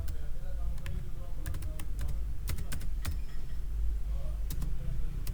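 Computer keyboard clicks from typing Python code for a simple calculator program, an uneven run of keystrokes in short bursts and single taps over a steady low background hum.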